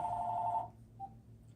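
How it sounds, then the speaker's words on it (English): A telephone rings indoors in a kitchen: one short, bright electronic ring burst lasting about half a second, then a faint trailing chirp before it cuts off. "excuse me just one sec while I answer this phone"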